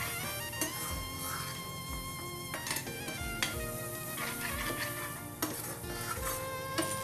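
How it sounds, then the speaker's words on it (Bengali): Chopped garlic and ginger stirred and fried in a pan for a mutton coconut fry, with a continuous sizzle broken by regular spoon clanks and scrapes, over a steady tonal background. "1 চা চামচ রসুন কুচি, 2 চা চামচ দিয়ে নেড়ে খুব ভালো করে মিশিয়ে ভাজতে হবে।"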